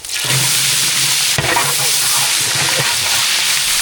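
A loud, steady sizzle fills the air as onions fry in a pan for chicken biryani, with occasional scraping stirs close up.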